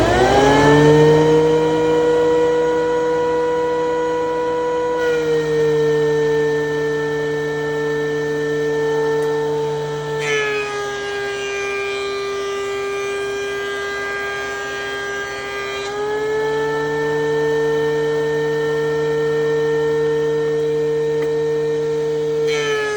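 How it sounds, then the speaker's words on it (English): A thickness planer feeds wooden boards down toward 3/4 inch, giving a loud, steady mechanical whine with a strong harmonic drone that shifts in pitch a few times as boards pass through, with no voices. "we're going to use this machine, the thickness planer, run them through there until they're about 3/4 inch"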